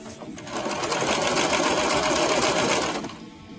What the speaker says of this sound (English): just sew a little tack on the collar to keep the collar down and to keep the tie in place